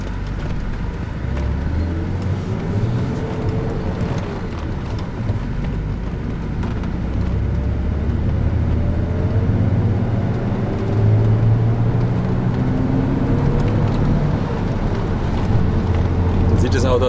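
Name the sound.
Alpina B10 Bi-Turbo E34 3.5-litre six-cylinder car driving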